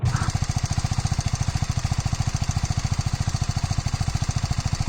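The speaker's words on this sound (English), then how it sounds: "Let's see the exhaust note of this bike now." A BMW G310 R motorcycle engine idles with a steady, rapid low thumping pulse, loud and close, running continuously without any talk.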